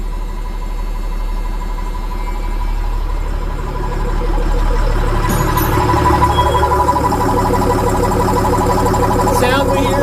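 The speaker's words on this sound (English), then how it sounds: "The sound we hear is the air compressor." An air compressor runs on the engine of an old abandoned RV, a steady mechanical drone with a regular pulsing hum that gets louder partway through, with voices faintly underneath.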